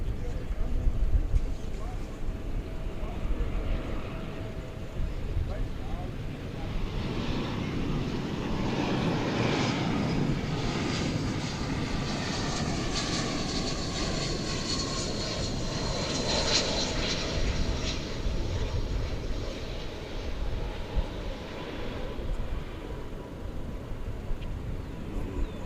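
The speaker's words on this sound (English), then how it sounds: "It is an Airbus A319, American Airlines, flight" American Airlines Airbus A319 jet at DFW Airport, a steady distant engine roar that swells gently and lingers for about twenty seconds under faint outdoor noise.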